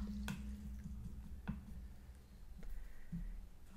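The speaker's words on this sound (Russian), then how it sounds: "Мойте кисточку хорошенько." A watercolor paintbrush is rinsed in a jar of water, giving a few soft, quiet drips and wet swishes spaced about a second apart.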